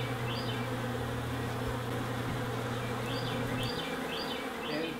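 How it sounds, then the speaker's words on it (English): Honeybees buzz around their new hive, a steady, low droning hum of many insects close by, with a few individual bees whining past in brief higher passes over the constant swarm. "And this is the bees in their new home."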